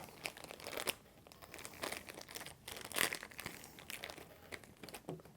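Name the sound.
opening plastic bag of Nerf Modulus darts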